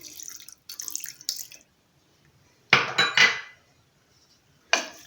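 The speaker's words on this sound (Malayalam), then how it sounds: "ഒരു അല്പം വെള്ളം ചേർക്കുന്നുണ്ട്" Water splashes into a pot of half a kilo of salted beef in several short bursts separated by silence, close and clear with no talking.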